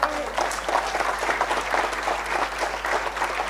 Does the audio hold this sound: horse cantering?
no